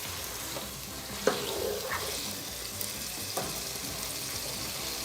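Eggs and potatoes frying in a pan over a high flame, a steady close sizzle with a few soft utensil clinks.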